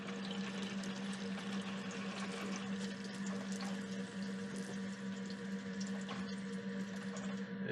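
Water runs continuously from a caravan tap as it is switched over to hot, a steady pump hum beneath an even rushing flow, close and with no voices.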